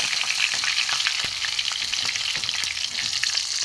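Bata fish fry in hot oil with a loud, continuous close sizzle and spatter, broken by a few sharp clicks and taps of a utensil, with no voices.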